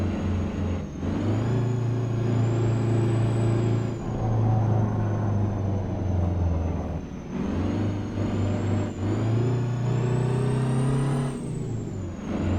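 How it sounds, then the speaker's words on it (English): A custom Peterbilt truck in American Truck Simulator runs its engine brake, a loud, deep throbbing drone with a rising and falling whine, easing briefly around the one- and seven-second marks before resuming, with no talking. "The engine brake sounds a lot better in this one."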